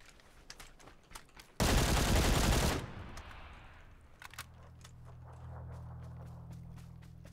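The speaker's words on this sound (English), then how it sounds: "I heard shots on my left side, I think." Burst of automatic gunfire in PUBG, a loud sustained volley of about a second, followed by scattered quieter shots and footsteps, with a low steady hum beneath.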